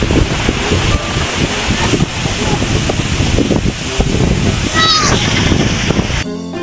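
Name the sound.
wind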